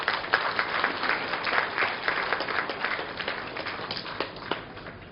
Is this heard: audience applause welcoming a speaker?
yes